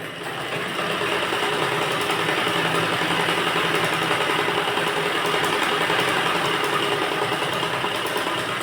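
A sewing machine stitches a sleeve onto a belt blouse, running as a continuous, even mechanical whir close by, with no pause after a short start-up.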